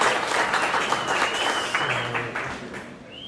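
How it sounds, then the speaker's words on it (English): An audience at a live tech meetup applauds Derek, a dense, continuous wash of clapping that gradually fades and thins out by the close. "Give a round of applause for Derek"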